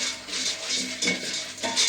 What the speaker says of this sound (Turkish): mısırlarımızı yağda çeviriyoruz